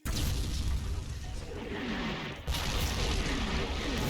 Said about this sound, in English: As the sappers try to move up the southwestern slope, they also come under fire and mortar barrage.